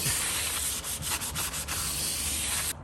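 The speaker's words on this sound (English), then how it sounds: "using a clean towel, wipe that clean" A clean towel rubs brake cleaner off the surface of a new rear brake rotor on an F150, a continuous close, dense rubbing and wiping hiss lasting about three seconds with faint rhythmic strokes, no voices.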